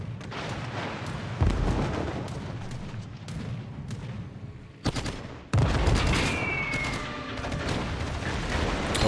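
Bombs fall in a video game ranked match, with repeated heavy booms and crackling blasts, a brief drop to near silence, then another loud burst with a whistling streak over the roar.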